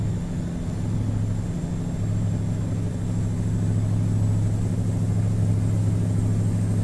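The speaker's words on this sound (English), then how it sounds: "really good how this truck just cruises along. Sounds great, looks great, drives well." A modded Mack Superliner truck cruises along a highway in American Truck Simulator, giving a steady, low engine rumble and drone that holds an even level throughout, with no talking over it.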